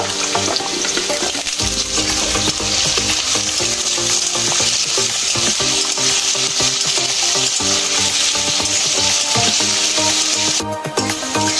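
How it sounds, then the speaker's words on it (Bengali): Diced potatoes frying in oil in a pan, a loud, dense and continuous sizzle with frequent stirring clatter, heard up close and without any speech. "এরকম করে আলুগুলো এবার তেলের উপর দিয়ে দেবো। ভালো করে লাল লাল করে ভেজে নেব।"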